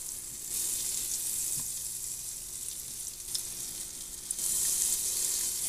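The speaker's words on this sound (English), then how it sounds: "We're going to add 1 tablespoon of butter into a saucepan that's been preheated on medium." A tablespoon of butter melts in a saucepan preheated on medium, giving a steady hissing sizzle that swells as it goes on, with a couple of light clicks.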